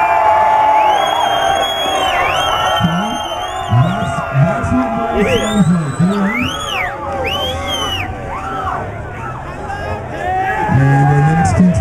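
A live crowd at a bikini contest cheers, whoops and screams loudly throughout, with shouting voices and babble rising and falling over a continuous roar.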